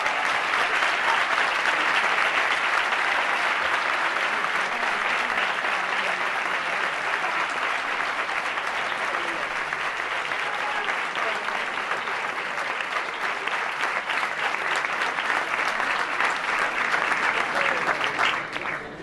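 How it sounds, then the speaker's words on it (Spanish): Audience applause for Dr. Raúl Zaffaroni at a lecture on law and neoliberalism, a steady, dense, sustained clapping from a large room that holds evenly loud for almost twenty seconds before ending abruptly. "Le pido un aplauso para él"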